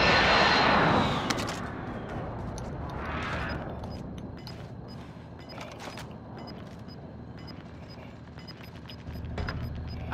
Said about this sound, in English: We got recon online. UAV entering the AO.